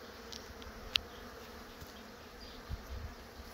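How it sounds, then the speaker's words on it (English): Honey bees hum faintly and steadily around hives in a bee yard during a nectar flow, a low background drone broken by a sharp click and a few soft bumps. "walk through your bee yard and wonder what my bees are doing in the box"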